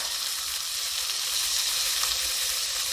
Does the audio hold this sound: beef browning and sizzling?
yes